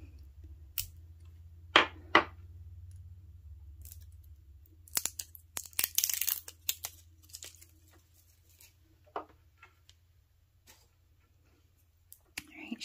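A seam ripper snips and tears into the plastic packaging of a Monteverde fountain pen ink bottle, with a few sharp close cuts and crinkles followed by scattered small clicks in a quiet room.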